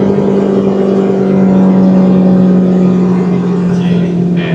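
A Proton Saga 1.5 with a CVT gearbox accelerates along a track straight, its engine holding a loud, steady drone from inside the cabin with little change in pitch.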